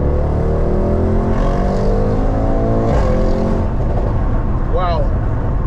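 An 800bhp rear-wheel-drive Mercedes GT63S accelerates hard, its engine note loud and close, climbing steadily in pitch through the gears with a brief shift-like break, heard from inside the car.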